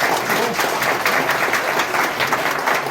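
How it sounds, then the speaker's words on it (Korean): A forum audience in a National Assembly hall bursts into brisk, dense applause, loud and close, many hands clapping steadily for the whole moment. "박수 한번 주세요."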